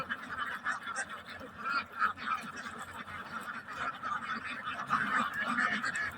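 A flock of ducks at a duck farm quacks continuously and excitedly nearby while being fed paddy, many overlapping calls forming a busy, noisy chorus.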